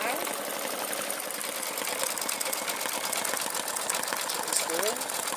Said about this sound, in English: It does slow itself down according to the density of the stitches that it's doing.